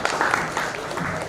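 Audience applause at the ETHforAll kick-off event, a short steady burst of clapping from a crowd, fairly close and even throughout, with a voice faintly mixed in.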